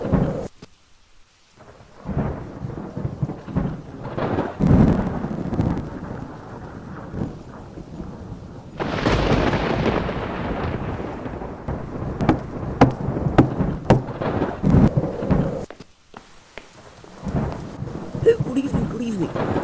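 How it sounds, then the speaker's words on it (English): A thunderstorm sound effect from a brickfilm, with steady rain hiss and repeated rolling thunder rumbles swelling and fading, loud and close, punctuated by a few sharp cracks. "I'm so sorry to leave you staying up in the rain."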